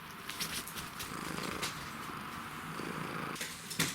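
Close, steady purring of a cat, soft and continuous with faint rustles, while a second animal can be heard chewing and gnawing nearby.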